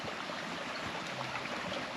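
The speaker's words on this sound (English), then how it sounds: "can hear that river running out" A river runs beside a bush campsite on a remote track near Bulman in Arnhem Land, giving a steady, close rushing of water with no voices.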